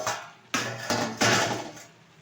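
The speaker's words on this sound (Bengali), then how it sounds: "ঢাকনাটা তুলে দিচ্ছি।" A pot lid, a plate used as a cover over a Bengali ash gourd curry, is lifted, with a few distinct clinks and scrapes of metal and dish in close succession, then a fading rattle.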